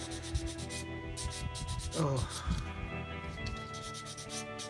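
Plastic wheels from a 1/35 scale Takom Mk IV tank kit are sanded by hand in quick repeated rubbing strokes, close and steady, with a brief spoken exclamation partway through.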